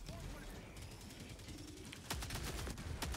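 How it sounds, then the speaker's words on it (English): Helldivers 2 combat: a KSR cannon and other weapons fire in several sharp, loud bursts in the latter half, over continuous game battle noise and background rumble. "I'm bringing down my KSR cannon!"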